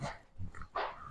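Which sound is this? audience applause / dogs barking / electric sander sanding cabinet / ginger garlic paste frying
dogs barking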